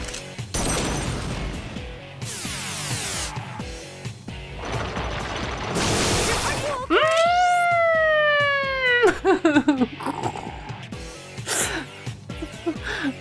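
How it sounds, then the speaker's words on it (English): Amid crashing and noisy game effects in Persona 3 FES, a rising and falling wail like a siren sweeps up and down for a few seconds, loud and close. "Made a noise like a siren."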